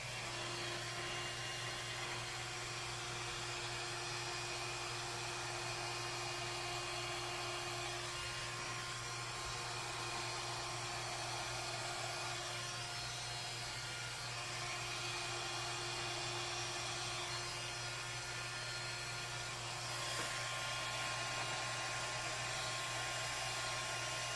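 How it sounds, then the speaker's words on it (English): A hair dryer that is not working well runs with a steady motor drone, a low hum and airy hiss, consistent and unbroken, with no talking. "this dryer is just not working well these days"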